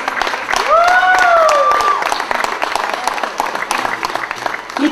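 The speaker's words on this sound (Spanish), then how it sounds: "Un aplauso para todos ellos." Wedding guests applaud at a reception, a loud steady wash of clapping with a gliding whistle rising above it early on, continuing evenly for several seconds.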